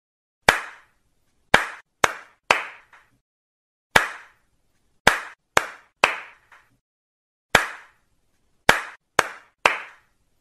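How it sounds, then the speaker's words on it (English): Sharp hand claps in a counting pattern, played out as a single clap followed by quick bursts of three, repeated over and over. The claps are loud and close, with silence between each group. "now you come forward and count my claps"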